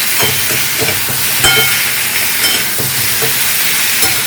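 Spices sizzle in hot oil for an ivy gourd (kudri) curry: a steady, close frying hiss broken by light rhythmic scrapes of stirring, with no voices.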